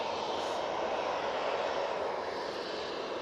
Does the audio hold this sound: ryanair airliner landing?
yes